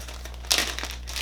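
A plastic bag crinkles briefly and close as it is packed into the case of an 18-volt expansion tool kit, a burst of rustling over a low steady hum.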